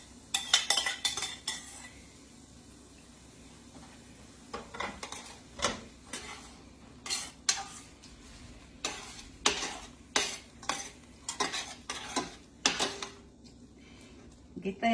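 Two eggs being scrambled with a utensil in a pan of chicken fried rice, giving repeated sharp scraping and clinking strokes against the pan over a low steady hum, with intermittent speech.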